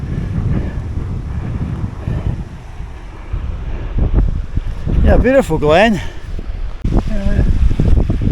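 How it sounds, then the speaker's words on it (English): A waterfall in Glen Douchary, Scotland, makes a steady rushing roar close to the microphone, mixed with buffeting wind, while people talk over it. "I don't know if that's the last waterfall."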